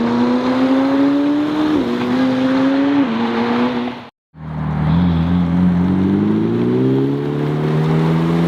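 A Bugatti hypercar engine roars loudly at close range on start-up, its pitch stepping up and down, cutting out briefly before droning back and climbing again.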